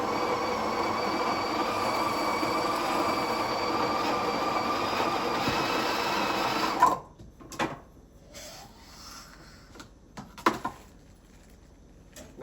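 The built-in grinder of a Breville Barista Express BES870 espresso machine grinds coffee beans with a loud, steady whir for about seven seconds, then cuts off. Small clicks and handling knocks follow.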